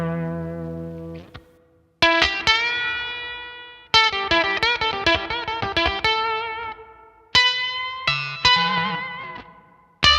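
Electric guitar played through an Octapussy octave fuzz pedal, giving thick, harmonically rich fuzzy notes and chords that start sharply and sustain before decaying, with short pauses between phrases.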